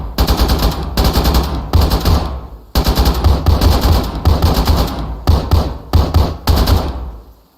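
Sustained machine-gun bursts from an Arma 3 battle, loud and close, firing in rapid rattling strings separated by brief pauses, with several short clipped bursts near the end.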